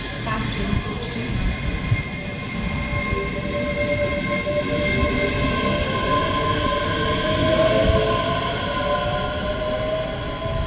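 A fast train rumbles steadily through a station in Scotland, with metallic whining tones and rising squeal over a constant roar, growing slightly louder before easing off.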